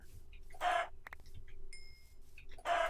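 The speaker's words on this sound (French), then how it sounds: "Ok, encore des poulets, parfait." Chickens in a video game give two loud, clipped clucking bursts at the start and end, separated by softer clicks and faint tones over a quiet backdrop.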